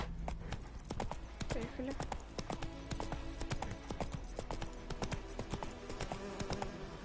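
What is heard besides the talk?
horse Roach galloping, from a video game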